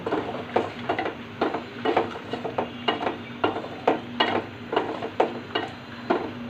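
Catfish being stir-fried with spices in a pan, a soft constant sizzle under a rhythmic series of scraping stirs and utensil knocks, with no talking.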